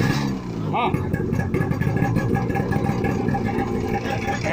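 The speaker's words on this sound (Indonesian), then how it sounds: "Vespa ya. Suara Vespa lama." An old two-stroke Vespa scooter engine idling with a rough, putt-putt rumble, while a person talks over it nearby.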